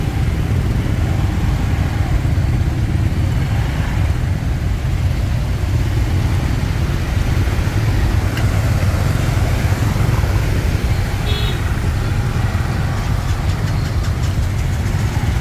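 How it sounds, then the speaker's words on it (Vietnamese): A steady rumble of motorbike engines passing close by as they ride through a flooded street in Hanoi, with broadband splashing and traffic noise throughout and no clear talk. "những chiếc xe máy à, lội nước này mà không chết máy là may mắn lắm rồi"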